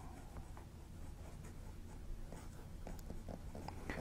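A Southern Pen Co. Duall fountain pen nib scratches faintly across paper in short, intermittent strokes, quiet and close, over a low background hum.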